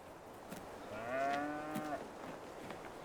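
A single drawn-out moo from a cow in a farm simulator game sounds for about a second at moderate distance over quiet ambient noise, with faint clicks around it.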